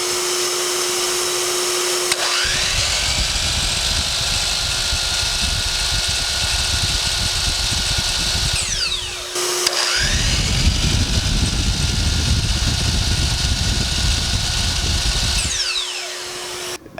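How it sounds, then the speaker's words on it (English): A miter saw runs off a Growatt inverter through an auto transformer, alongside a droning wet/dry vacuum. The loud, close motor whine spins up, cuts out briefly, then spins up again and runs on before winding down. "now I'm going to switch on the miter saw here."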